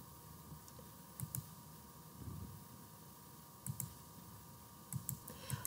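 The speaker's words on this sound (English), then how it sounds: "I will go to the object that I want to select and I will click on it" Mouse buttons clicking as objects are selected in Hatch Embroidery software, with several quick pairs of sharp clicks spaced across the clip over a low steady background hum.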